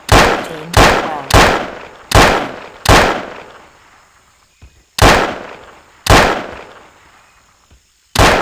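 Gunshots ring out in the Trespasser video game, a run of loud, sharp cracks at irregular intervals of roughly one second, each followed by a decaying tail. Faint quieter sounds fill a gap midway through.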